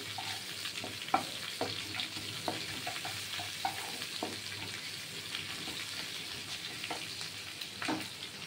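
Grated garlic hits hot oil in a pan and fries with a steady sizzle, broken by repeated spatula stirs and scrapes against the pan, close and clear with no talk.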